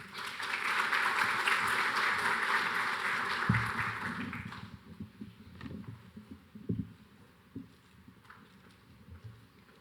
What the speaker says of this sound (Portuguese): Uma salva de palmas, por gentileza.